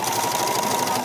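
A sewing machine stitches steadily down a fabric edge beside the metal presser foot, giving a close, even, continuous mechanical whir with no talk.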